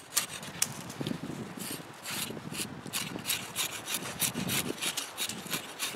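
A small Schrade machete (SCMACH16) is drawn along a locked wooden board like a draw knife, debarking and smoothing it with steady repeated scraping strokes that rasp close up and fairly loud, with no talk over them.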